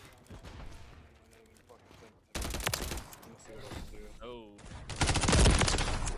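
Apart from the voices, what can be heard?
gunfire in Call of Duty Modern Warfare 3 video game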